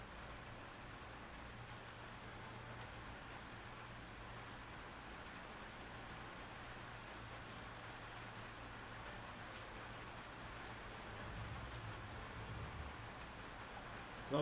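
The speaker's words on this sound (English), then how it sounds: "Love the rain sounds, yeah, especially on a corrugated iron roof, eh?" Rain falling on a corrugated iron roof, a steady dense hiss and patter that holds evenly throughout, with a low rumbling hum underneath and a slight swell near the end.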